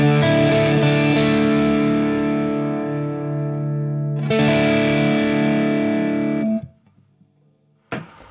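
An overdriven electric guitar runs through an MXR Smart Gate noise gate pedal. It plays two long sustained distorted chords, each ringing loud and then dying, with the gate cutting the tail to near silence before a brief fresh strum.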